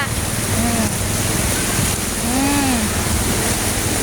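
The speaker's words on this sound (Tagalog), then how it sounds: "Ang tindi ng baha." Flood water rushes along a street as a loud, continuous broadband roar that lasts the whole stretch, and a voice can be heard faintly in the middle of it.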